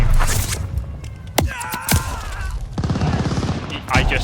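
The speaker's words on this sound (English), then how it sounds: "I'm being shot at already." Gunfire in the online shooter Call of Duty: Vanguard, heard as sharp, loud shots at scattered moments against a dense, steady game din, with one burst near the end.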